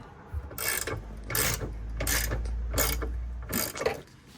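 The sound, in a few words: ratchet removing bolts from Subaru STI bumper bracket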